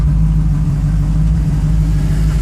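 A 1934 Ford 3-window idles at about 600 rpm, a loud, steady, low rumble with an even throbbing pulse close to the microphone and no voices.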